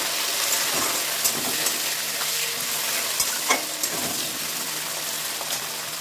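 Chopped tomatoes sizzle and crackle as they fry in a pan with onion and crushed garlic, a steady close frying hiss with occasional stirring clatter and no talking.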